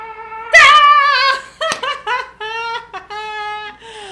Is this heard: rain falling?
no